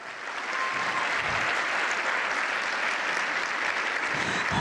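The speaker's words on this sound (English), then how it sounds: "Let's give them a round of applause." Steady, full audience applause at a borough address, rising in the first half second and then holding dense and even throughout.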